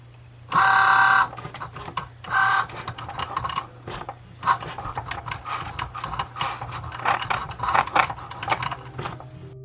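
A Cricut Joy cutting machine working on Smart Vinyl, opening with a couple of steady motor whirs, then a busy run of rapid buzzing, clicking carriage movements and short mechanical pulses, close up and fairly loud.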